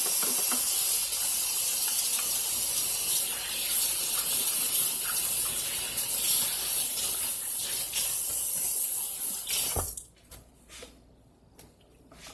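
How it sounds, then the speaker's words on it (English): Hands are washed under a running kitchen tap during pork sausage preparation, giving a steady loud hiss and splash of water that cuts off abruptly near the end, leaving quiet room tone with faint knocks. "So I'm gonna wash my hands again."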